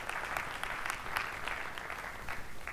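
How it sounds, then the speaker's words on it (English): Steady applause from a tech talk audience, dense clapping sustained throughout at moderate volume, with a faint voice underneath. "give him a round of applause"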